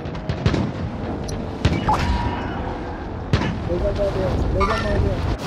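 Gunfire in a video game sniping fight, with several loud isolated booming shots spread out against a wind-like background, while voices talk over the shooting.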